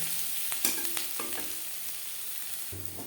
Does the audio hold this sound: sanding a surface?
no